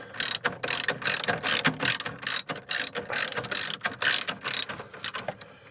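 A ratchet wrench works 15 mm bolts on the steering column of an old Ford F150 Stepside 4x4, clicking in repeated fast bursts of pawl clatter with short pauses between strokes, close and clear with no talking.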